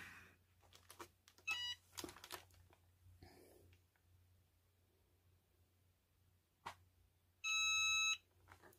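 A kitchen timer beeps in short electronic bursts during heat pressing for a craft project, two separate beep sequences standing out clearly over quiet handling noises.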